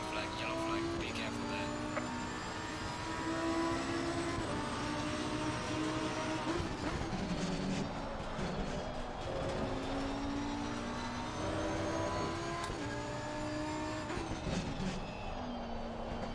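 Race car engine under throttle in Assetto Corsa Competizione, a sustained tonal engine whine rising and falling with gear changes through a sequence of corners, continuous and steady, with a voice talking over it.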